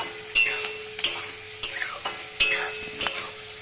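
Vegetables for veg chowmein are stirred in a hot pan with tomato going in, a spatula scraping in sharp, rhythmic strokes over a steady close sizzle with no talking.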